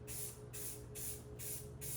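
Spray paint hisses from an aerosol can onto unsealed foam in rhythmic bursts, about five short sprays with brief gaps, steady and close without talk.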